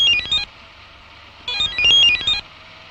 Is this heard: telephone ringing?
yes